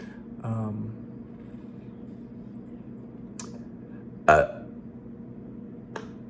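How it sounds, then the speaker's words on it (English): A single low, croaky burp sounds near the start, followed by a few sharp clicks and taps in an otherwise quiet room. "There it is. I was waiting for the burp."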